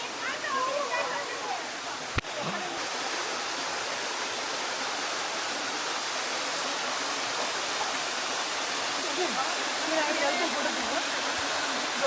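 Juan Diego waterfall in the El Yunque rainforest, Puerto Rico, rushing with a steady, loud broadband roar that fills the whole stretch, with a brief sharp knock near the start.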